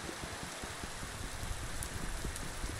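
Rain falls steadily in a Minecraft world running the Tekxit modpack, a soft, continuous hiss of many small droplets with faint patters, fairly quiet and with no talking.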